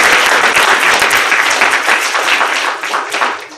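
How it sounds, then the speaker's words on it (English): An audience applauds Miss Hart at a planetarium check award presentation: dense, steady clapping that holds loud throughout and thins slightly near the end. "You need to give her a big round of applause."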